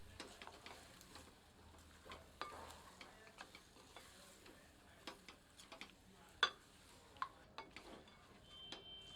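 Mutton with ground spices and whole red chillies being stirred together in a cooking pot for aloo gosht, with soft, scattered scraping and clicking of the spoon over a faint sizzle, quiet and close, no voices.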